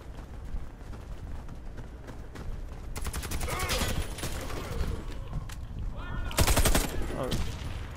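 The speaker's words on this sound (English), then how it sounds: "Shot my own teammate, guys." Gunfire in a Warface team deathmatch, scattered shots at first and then bursts of rapid automatic fire, loud and close, over a busy game background.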